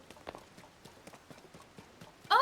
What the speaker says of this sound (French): Oh, il y a des chevaux.